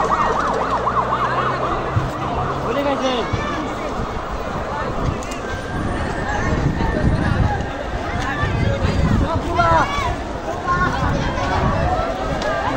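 Ambulance siren wailing through a street protest in Rampura, Dhaka, its repeating rising and falling tone sweeping past amid crowd noise and traffic, with people talking and shouting loudly over it.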